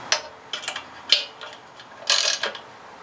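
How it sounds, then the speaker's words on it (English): A hand ratchet tightens the cylinder head bolts on a 1968 Volkswagen Baja Bug a quarter turn at a time. Scattered, close-up clicking bursts are separated by short pauses, with one longer rasping run of clicks near the end. "So I'm just going to tighten them all just a little bit using the right bolt pattern."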